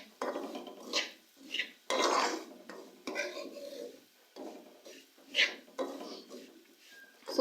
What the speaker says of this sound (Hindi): सूजी को हम लोग मिक्स करेंगे।